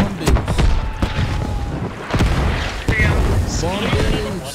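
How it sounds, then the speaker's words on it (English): Artillery bombardment in the video game Squad, set at Belleau Wood: repeated heavy booms and blasts, some near and some distant, roll under ongoing talk. "Look at these bombings."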